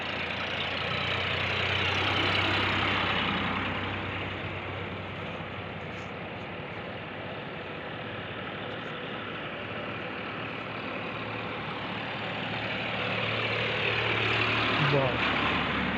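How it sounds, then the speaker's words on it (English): Several farm tractors running nearby, a steady droning engine rumble with a low idling hum that swells and eases slightly over the stretch, heard without talk. "there is a tractor and there is a car."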